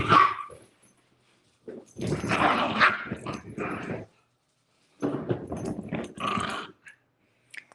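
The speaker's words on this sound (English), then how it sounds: "sorry about the background noise. My puppies are getting rowdy." Puppies bark and yip in rowdy bursts with short quiet gaps between, fairly close and loud.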